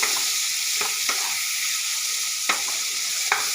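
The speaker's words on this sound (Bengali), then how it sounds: "নেড়ে হলুদটা ভালো করে মাখিয়ে নিলাম" Figs and potatoes coated with turmeric frying in a pan over a village stove, giving a bright, continuous sizzle with a few sharp stirring clinks spaced out, close and with no talking.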